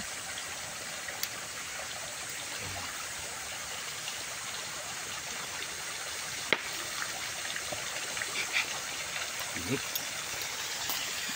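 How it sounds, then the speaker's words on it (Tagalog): Strong creek water rushing steadily nearby at a water source under construction, a constant broadband wash with occasional small knocks and faint voices in the background. "Lakas ng tubig."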